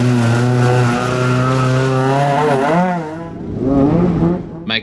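A race car at a Shackleton circuit summer series round pulls away on cold tyres, its engine droning steadily and loud, then pitch rising through a rev before easing off and picking up again.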